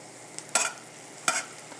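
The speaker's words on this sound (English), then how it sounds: "I really like the sizzling sound, from the bottom of the pan." Mushrooms sizzle in a frying pan, a soft steady crackle under two sharp stirring scrapes about a second apart, close and fairly quiet.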